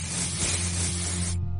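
Air freshener spraying from an aerosol can in one loud continuous hiss lasting just over a second, then cutting off sharply over a low background hum.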